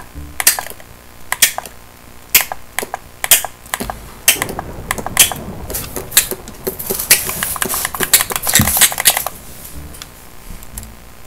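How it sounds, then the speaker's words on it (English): Rhythmic clicking from repeatedly hitting another player in Minecraft, a run of sharp, evenly spaced clicks and taps that tighten into a denser flurry midway before stopping, close and fairly loud with no talk. "I'm just making a beat out of my clicking on him."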